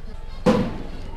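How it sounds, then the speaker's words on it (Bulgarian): A firecracker set off by fans at a football stadium in Ruse, a single sharp bang standing out against the background crowd noise. "И бомбички има, да"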